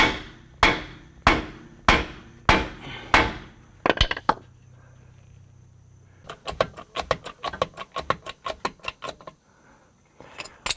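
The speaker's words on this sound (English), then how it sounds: "Hammering it doesn't seem to be effective." A hammer strikes a Rock Hard 4X4 steel transmission crossmember: five heavy, evenly spaced clangs, then a quicker burst of ringing hits, a pause, and a long rapid series of lighter metallic taps, close and loud.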